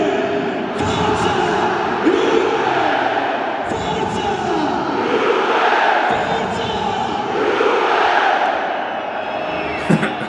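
European sports fans in a large stadium crowd chant and cheer together, a loud, dense, echoing roar that swells and falls in waves across the whole stretch.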